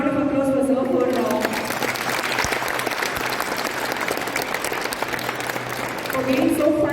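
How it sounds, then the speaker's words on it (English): An audience gives a speaker a sustained round of applause at a college orientation program, dense steady clapping filling the whole stretch with a constant background murmur. "A big round of applause for sir"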